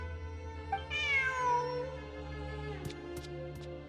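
A cartoonish cat meows once, a drawn-out rising and falling mew over steady game background music, followed by a few soft clicks.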